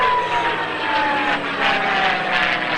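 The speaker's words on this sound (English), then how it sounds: "Part of the beauty of a P-51 is the sound of that V12 engine." A P-51 Mustang's V12 propeller engine drones loudly and steadily overhead in an airshow flyby, with a continuous roar and a faint whistle of air through the radiator riding on top.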